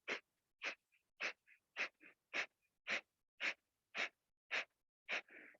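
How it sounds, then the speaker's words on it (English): Ten rapid, forceful Kapalabhati exhales during a yoga pranayama practice, evenly spaced sharp puffs of breath close to the mic, with a softer breath trailing at the end and no talk. "could you do a Kapalabhati breath here? Just 10 rounds."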